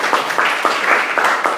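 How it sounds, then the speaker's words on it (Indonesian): A group of students in a classroom claps together in a quick, fairly regular rhythm, loud and close for a short burst of applause. "Tepuk tangan dulu untuk di sana."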